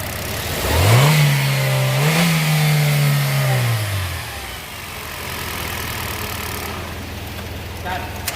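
A Hyundai Creta engine with a relay fault cranks and starts, briefly revs and settles into a steady idle, loud and close, with no speech over it.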